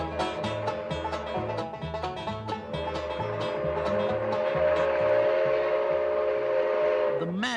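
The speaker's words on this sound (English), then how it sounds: "riding old-style passenger cars being pulled by a turn-of-the-century steam engine, laboring and working its way up" A turn-of-the-century steam locomotive pulling old-style passenger cars on the Grand Canyon Railway chugs uphill in a steady, laboring rhythm while a whistle sounds, with rail clatter building and a final whistle blast near the end.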